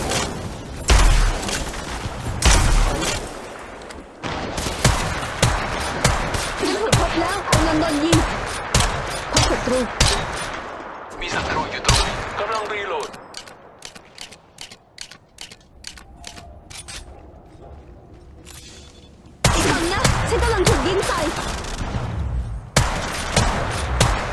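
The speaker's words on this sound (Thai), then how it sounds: "กำลังโดนยิง" Rapid bursts of gunfire from Apex Legends Mobile rattle in dense volleys, with mechanical clicks and brief lulls between loud, close firefights.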